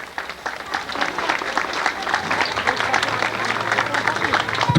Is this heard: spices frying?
no